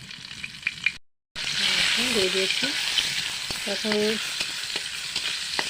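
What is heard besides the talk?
slit green chillies frying in oil with garlic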